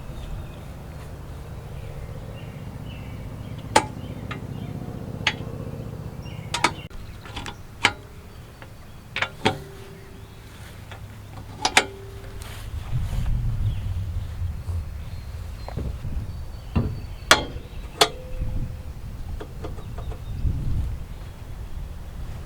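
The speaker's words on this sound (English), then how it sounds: "we'll show you the operation of the swing out. All right, we're going to go to stop number 1. Stop number 2." A custom swing-out tire carrier with a big wheel and tire on a 5th Gen 4Runner, swung open through its stops, giving sharp metallic clicks and clunks spread irregularly over quiet background with faint low rumble.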